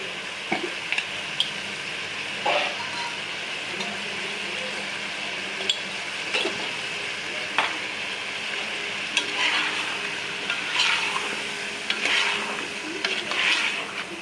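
Vegetables cooking in a pan for bitter gourd curry are stirred and mixed, with a soft steady sizzle under repeated scraping and clattering utensil strokes at a close, moderate level.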